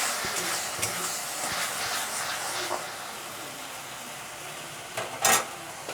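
Chicken and potato curry with tomato fries in a pan, a steady close sizzle and hiss broken by occasional scraping stirs and a sharper clink near the end.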